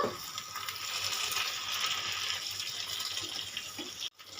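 A little water is poured into a pan of pointed gourd and paneer curry, giving a steady close rushing pour that stops abruptly near the end.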